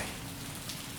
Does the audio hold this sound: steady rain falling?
yes